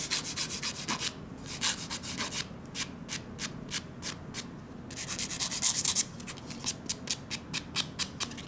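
Close, dry rasping of a file worked back and forth along the cuticle edge of an acrylic nail, quick rhythmic strokes in short bursts with a brief pause, no talking.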